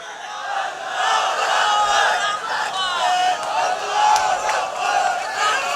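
A large crowd at a sit-in protest in Lahore chants slogans back in unison, loud and continuous with rising and falling shouted voices filling the space.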